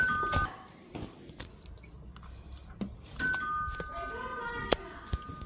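A two-tone electronic doorbell chime rings twice, at the start and again midway, amid quiet indoor shuffling and a faint voice.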